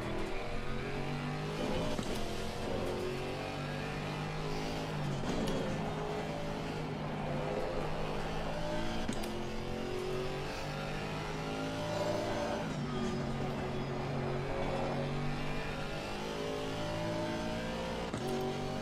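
GT4 race car in the racing game Assetto Corsa, engine droning and revving steadily throughout with rising and falling gear-shift sweeps, loud and continuous with no talk.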